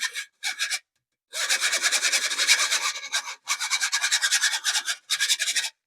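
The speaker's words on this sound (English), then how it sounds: "So now I am going to just stir those together in the sifter" Dry ingredients for pumpkin bread get stirred in a flour sifter, making rapid, rhythmic scraping rasps in several bursts separated by short pauses.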